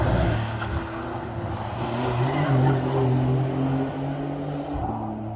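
A Golf R wagon accelerates nearby with its tires skidding, an engine note rising and wavering over a rough, scrubbing hiss that fades slightly at the end.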